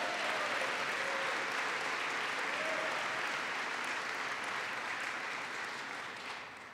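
A round of applause from a large audience for the SUNY chairman at a governor's event, dense and sustained clapping that slowly fades toward the end, with faint cheers.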